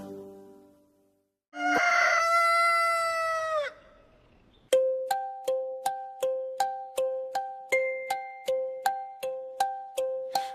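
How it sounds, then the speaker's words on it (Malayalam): A cartoon rooster in a children's nursery song lets out one long, loud crow, then rhythmic bell-like musical notes chime in a steady repeating pattern. "കൊക്കരക്കോ കൂവി നടക്കും പൂവൻ കോഴി"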